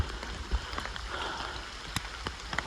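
Rain patters on surfaces along a steep, busy mountain trek to Tungnath temple, faint and steady with scattered sharper drop hits and no voices.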